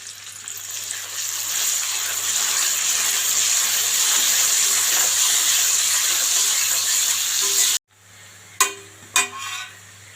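Chopped ginger and garlic frying in a pan for chicken chili and fried rice, a loud steady sizzle for most of the clip that cuts off abruptly, followed by a few clanks and quieter frying.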